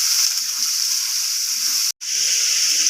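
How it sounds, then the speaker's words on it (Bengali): Potatoes and finely chopped onions frying in oil for tadka give off a steady, bright hiss of sizzling that cuts out briefly near the end and then resumes. "আমি এখানে আলু আর ছোট ছোট করে পেঁয়াজ কুচি করে নিয়েছি, এগুলো তেলে দিয়ে দেবো। এগুলো একটু ভেজে নেবো"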